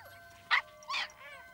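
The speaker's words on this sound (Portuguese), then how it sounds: "Filhotes de cão pastor à venda." Sheepdog puppies give two short, high yips close by, followed by a softer whine, against a quiet background.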